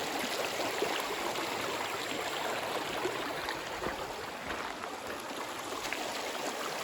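A creek on the Pacific Crest Trail rushes and gurgles nearby in a steady, even wash of flowing water with no voices.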